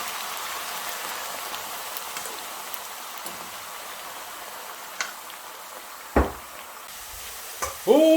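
Potatoes frying in oil in a pan while being browned, a steady soft sizzle with a few sharper crackles and clinks near the end.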